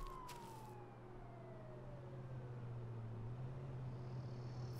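A car drives nearby in the H1Z1 King of the Kill battle royale game, a steady low engine drone holding throughout with a faint falling whine layered over it and a brief rattle at the start.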